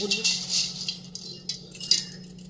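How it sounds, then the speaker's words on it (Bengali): Uncooked rice grains tipped out of a Lakshmi puja basket, a soft brief rattling and clinking of grains against the container, close and fairly quiet over a low steady hum. "এই যে চালটা ঢেলে নিলাম"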